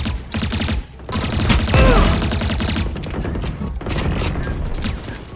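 Phantom rifle fire in the video game Valorant comes as rapid, loud bursts of shots, cracking in quick volleys with short gaps between them and a heavier boom near the middle.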